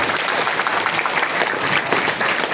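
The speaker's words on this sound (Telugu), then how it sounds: "ఏది గట్టిగా కొట్టండి చప్పట్లు." An audience at a Tiruppavai gathering in a Hyderabad housing community breaks into brisk, continuous clapping, close and full, with no speech over it.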